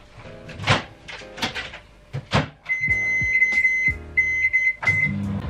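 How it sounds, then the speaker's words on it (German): Microwave oven door handled while a food pouch is put inside for a quick tuna fitness meal, with several clunks and clicks followed by a steady high beeping tone, close and fairly loud. "Ich packe das schon mal in die Mikrowelle"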